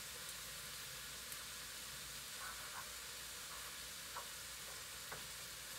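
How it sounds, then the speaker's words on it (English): An egg fries in a pan with a steady, quiet, close sizzle, a continuous hiss dotted with faint pops and crackles. "the egg is cooking up nice"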